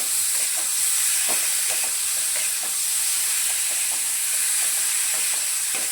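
Chopped tomatoes for a chutney are stirred in a hot pan, a spoon scraping in quick repeated strokes over a constant bright hiss and sizzle.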